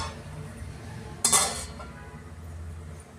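A plate is set over a pan of marinated chicken chops, giving a single short clink of metal or crockery against a faint steady background; no talking.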